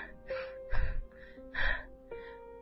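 Out-of-breath panting comes in several heavy, rhythmic gasps, close and fairly loud, over a soft sustained musical tone.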